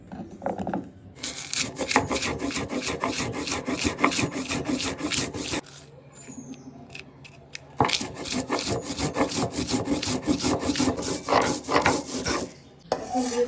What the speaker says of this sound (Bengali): শুকনো মরিচ এগুলো আগে বেটে নিব